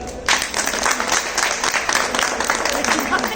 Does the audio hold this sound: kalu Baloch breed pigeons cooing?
no